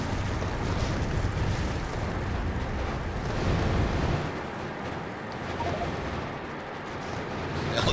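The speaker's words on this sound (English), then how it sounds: "Artillery over here, please." Artillery fire in a video game built around train-fed ore processing: a dense, continuous rumble of heavy booms rolls loud and steady, easing slightly midway before building again.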